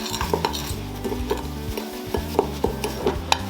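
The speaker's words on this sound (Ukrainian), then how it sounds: "Суміш ретельно перемішуємо" A spoon stirs and scrapes through a thick garlic and black pepper spice mixture in a bowl with repeated clicks and scrapes, close up, no one speaking.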